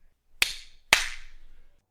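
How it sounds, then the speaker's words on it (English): Two sharp hand claps, about half a second apart, crisp and close, each followed by a short ringing room echo that dies away into silence. "She claps her hands"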